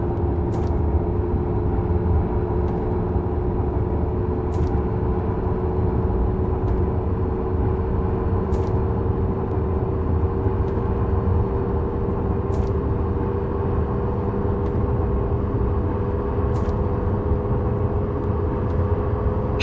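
An express train in Train Simulator 2021, running from Hamburg to Hannover, accelerates toward 80 with a steady low mechanical drone and faint evenly spaced clicks every couple of seconds, and no talk.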